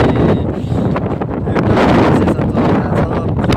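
Strong wind at an outdoor picnic spot, roaring and gusting heavily against the microphone in a loud, continuous buffeting rush.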